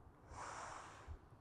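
A single audible breath drawn in, a soft airy inhale rising and fading over about a second, close and quiet, with no talking.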